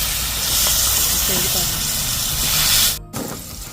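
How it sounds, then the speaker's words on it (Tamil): Pirandai, the adamant creeper, frying in a pan for pickle, giving a steady broadband hiss with soft stirring scrapes, which cuts out abruptly near the end before resuming more quietly. "நல்லா இந்த அளவுக்கு வதக்கிடணும்"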